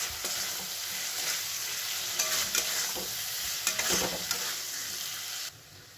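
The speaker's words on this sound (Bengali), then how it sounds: "এবার আমি এগুলোকে ভালো করে কষাবো।" Cauliflower and potato with Kashmiri chilli powder and salt are sautéed for a village-style fish curry, giving a steady close sizzle with repeated scraping stirs, then stopping abruptly near the end.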